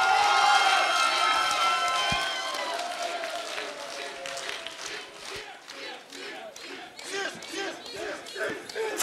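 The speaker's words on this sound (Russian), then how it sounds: "Аплодисменты!" A crowd at a student spring festival concert cheers and claps as a faculty group takes the stage, loud shouting and whooping at first, then thinning into scattered applause and crowd noise.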